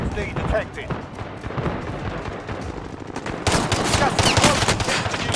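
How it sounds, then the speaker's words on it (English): Rapid automatic gunfire and explosive bursts in Call of Duty Modern Warfare on Rebirth Island, dense and continuous with voices talking over it, swelling louder in the final seconds. "I'm under fire."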